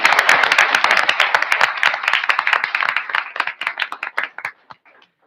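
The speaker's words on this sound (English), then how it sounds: "So I think that deserves a round of applause." A room of people at a school board meeting claps for a female athlete from Northville High School, a dense burst of handclaps close by that thins out and fades to scattered claps, then stops.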